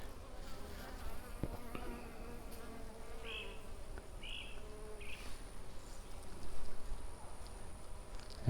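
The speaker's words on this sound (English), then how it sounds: "the other side has quite a few bees, and they've drawn this out quite a bit" Honey bees buzz steadily on comb drawn in a swarm trap during a first hive inspection, a close, dense hum with individual bees droning past now and then.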